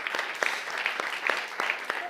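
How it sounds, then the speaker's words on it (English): Audience applause after presentations at a civic democracy event, with a few rhythmic claps standing out over a steady patter of clapping that fills the whole stretch at moderate level. "first give you a round of applause for all the good initiatives and the presentations."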